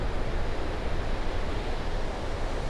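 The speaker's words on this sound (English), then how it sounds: "I'll give you some more individual shots of the waves running up along the cliffs." Ocean surf washing up against rugged coastal cliffs on the Sonoma Coast, a steady, loud broadband roar of breaking water with some wind buffeting, continuous and close with no talking.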